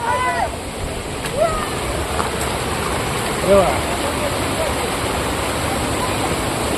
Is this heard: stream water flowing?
yes